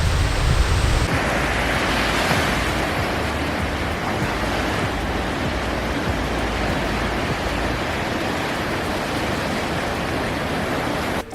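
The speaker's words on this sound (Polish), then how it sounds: "Tylko my w nocy i szum morza." Steady, broad roar of sea surf washing in continuously at night on a beach in Valencia, Spain, loud and close, with no voices.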